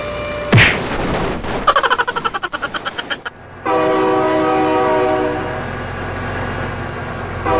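A train in BeamNG Drive blasts its horn loud and close, a sustained tonal chord, alongside rapid rhythmic clacking of cars rolling over rails and a rumbling pass, with no talking.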